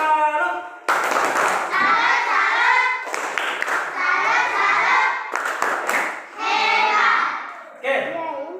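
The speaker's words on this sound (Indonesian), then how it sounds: "tepuk tangan dulu untuk kelompok 2" A classroom group claps together for a fellow class group in several short bursts, with children's voices chanting along over the clapping.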